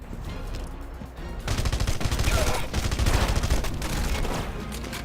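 Machine gun fire rattles in the video game Red Faction: Guerrilla, sustained loud automatic bursts with explosive booms layered on top, continuous through the moment, with faint talk underneath.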